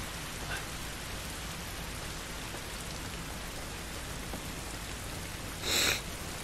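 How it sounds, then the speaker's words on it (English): Steady rain falls outdoors in The Last of Us video game, a dense even hiss of drops on surfaces throughout, with a brief brighter burst near the end and no voices. "It's raining"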